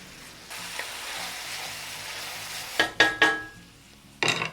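Ravioli beef filling seasoned with salt and black pepper cooks in a pan, giving a soft steady sizzle that is broken by a few sharp clanks of a utensil against the pan.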